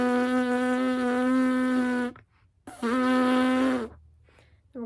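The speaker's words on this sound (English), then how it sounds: "then we're going to blow and remember to buzz our lips" Buzzing lips as practice for playing French horn, two sustained reedy buzzes of about two seconds and one second, close and loud, separated by a brief silence.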